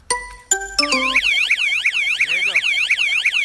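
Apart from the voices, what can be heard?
loud motorcycle alarm system going off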